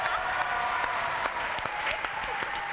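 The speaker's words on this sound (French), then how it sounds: "Applaudissements pour notre ami." An audience on a French television variety show breaks into steady applause, a dense continuous clatter of many hands with a few sharper claps standing out, filling the room.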